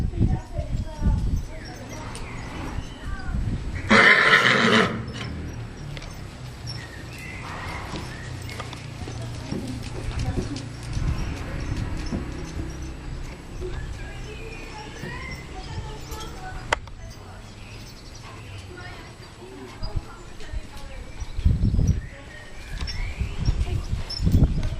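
Horses pass in the distance at an equestrian outing, their hooves clip-clopping softly and irregularly beneath nearby conversation, with occasional faint bird calls.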